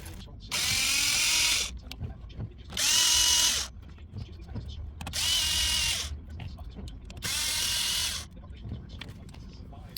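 A power tool with a 7mm socket drives out bolts from a Fiero interior panel in four separate bursts of high-pitched whirring, about a second each, with short quiet gaps between them.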